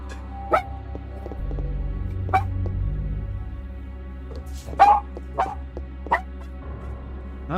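Dogs bark in the PlayStation game Parasite Eve, with several sharp yelps and barks spaced irregularly over a steady low ambient game drone and music.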